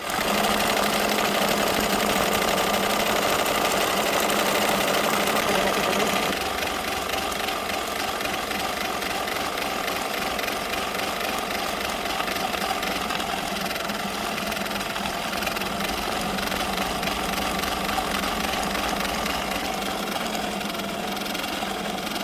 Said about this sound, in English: now we're going to do the satin stitch around the 1